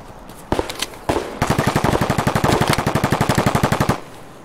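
Automatic gunfire in Escape From Tarkov on the Customs map: two short, loud shots, then a long, rapid, evenly spaced burst lasting about three seconds, close and dominant, with no voices.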